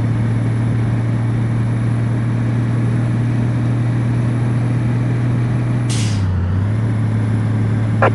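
Truck air brakes in the mobile driving game Truck Simulator 2018: Europe, heard as a short hiss with a steady low engine drone running underneath throughout.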